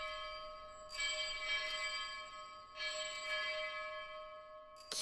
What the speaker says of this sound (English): can you stop ringing that fucking bell?